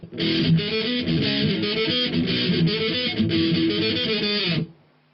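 A distorted electric guitar plays a main riff, a steady run of chugging notes that rings close and loud for several seconds, then stops abruptly.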